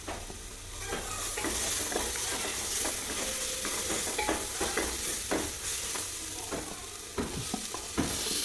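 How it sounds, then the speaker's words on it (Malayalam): Green chilies sizzle and fry with beef in a pan, a steady hiss broken by repeated scraping stirs of a spatula against the pan. "ഇനി നമുക്ക് പച്ചമുളക് ഇട്ട് കൊടുക്കാം."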